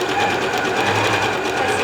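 A sewing machine running a zigzag stitch with fishing line as thread hums and rattles steadily at close range, a brief continuous run with no pauses.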